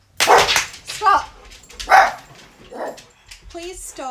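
Several pet dogs bark and yip in short, loud bursts indoors, with a few whimpering, higher-pitched calls in between.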